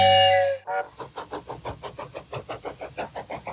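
A steam train whistle gives a bright sustained tone, then a steam locomotive chuffs in a regular, even rhythm as it moves off, loud and close, with no voices.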